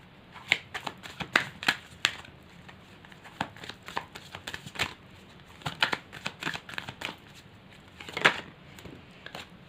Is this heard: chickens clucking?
no